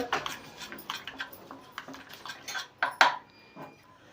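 Spoon clinking and scraping in a bowl while turmeric, kitchen king masala and other spices are mixed with a little water, in several irregular close taps and rattles with brief pauses and no talking.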